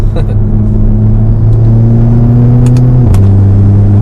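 A Volkswagen Golf R Mk7 engine warms up at a steady idle, a loud close droning hum that holds level and then drops slightly in pitch near the end, with a few light clicks.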